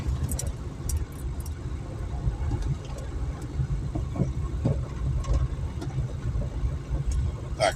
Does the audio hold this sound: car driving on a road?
yes